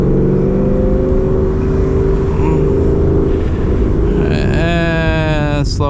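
A 2019 Mustang GT engine drones in a low steady roar from inside the car, then rises in pitch as it speeds back up, with a brief voice near the end.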